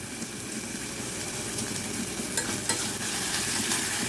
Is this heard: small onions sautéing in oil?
yes